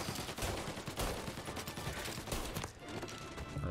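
Rapid submachine gun fire in Mafia Definitive Edition, a steady dense stream of loud shots that runs through nearly the whole stretch and thins out near the end.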